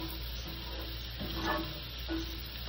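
Chicken sisig sizzling in plenty of butter in a pan, a steady close hiss and crackle with brief louder spatters and a faint ticking tone, with no talking.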